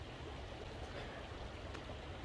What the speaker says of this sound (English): I have a little creek.